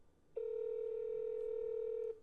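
A telephone gives off one steady electronic tone while a call is placed. It holds for nearly two seconds, clear and alone, then cuts off.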